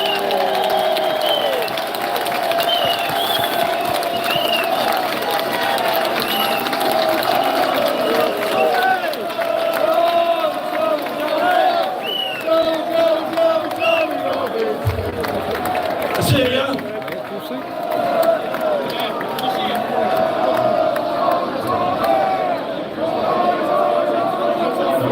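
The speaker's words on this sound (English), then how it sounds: "let's have a round of applause for Tommy Robinson" A large outdoor crowd at a London protest march by UK football supporters applauds and cheers, a dense, steady wall of clapping and shouts that carries on throughout with voices mixed in.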